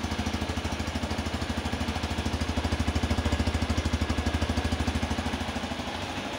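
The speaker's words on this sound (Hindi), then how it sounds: "तो एग्जॉस्ट साउंड इसका कुछ ऐसा आता है।" Hero Xpulse motorcycle exhaust idling steadily with an even, rapid low thumping pulse, close and continuous, without talk.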